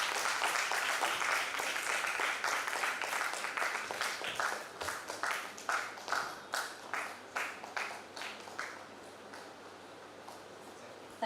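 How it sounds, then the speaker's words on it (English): Audience applause at a university faculty development program: a dense burst of clapping that thins into slower, separate claps and fades away near the end. "Please give a big round of applause."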